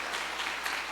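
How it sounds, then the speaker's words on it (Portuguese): A church congregation applauds during a Portuguese-language service, a short, even burst of clapping heard alone at moderate distance. "Então pode dar um glória a Deus aí e aplaudir o Senhor,"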